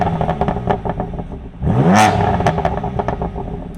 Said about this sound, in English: let's jump out the car and have a quick listen to the exhaust